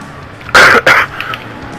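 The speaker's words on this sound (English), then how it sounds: "Excuse my coughing, guys." Two sharp, loud coughs in quick succession from a man playing a Monster Energy Supercross motocross video game, close to the mic with a quiet room behind.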